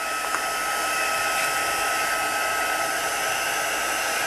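A heat tool blows a steady, loud, unbroken whoosh while drying ink on a paper background for stamping craft, with no talk over it.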